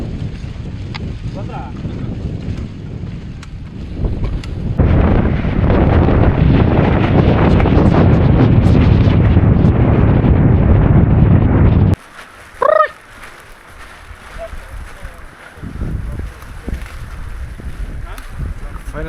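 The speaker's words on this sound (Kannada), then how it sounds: "ಗಾಳಿ ಜೋರಾಗಿ ಹೊಡಿತೈತೆ, ಹುಷಾರ್ ಮಾಡ್ಕೊ ಬನ್ರಿ." Strong wind on a hilltop trek to Merthi Gudda peak near Chikmagalur roars loudly as heavy gusts buffet the microphone, then drops abruptly to a quieter breeze.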